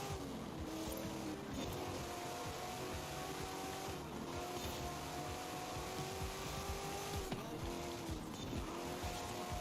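Racing cars in the Forza video game roar continuously at close range, engine notes rising and falling through gear shifts, with brief squeals of tires; no voices.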